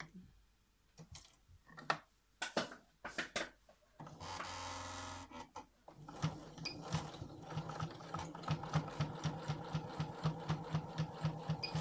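A sewing machine topstitches a fabric double-compartment pencil case, first with scattered clicks and a brief whirring burst, then settling into a steady, rapid run of mechanical stitching pulses, close up with no talking.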